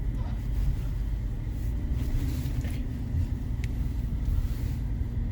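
A 2012 Infiniti FX35 with a 3.5 liter V6 engine runs while driving, a steady low rumble and road hum heard from inside the cabin at moderate volume.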